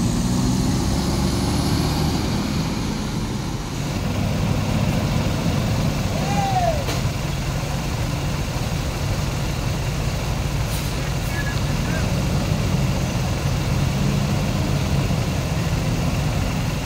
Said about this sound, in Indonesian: Berangkat ini lagi ya, ANS 15 eksekutif Bodi Ventura.